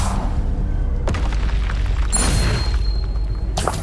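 Hogwarts Legacy gameplay, with the Confringo fire spell going off as a deep, loud booming explosion that rumbles over continuous dense game noise for several seconds.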